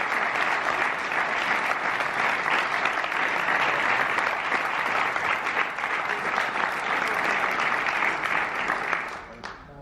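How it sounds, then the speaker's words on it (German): A large convention audience at the FKF Convention 2020 in the Europa Park Resort claps in a dense, continuous wash of applause that stays strong for most of the stretch, then thins out and fades near the end. "Und auch da, der Applaus gehört dir."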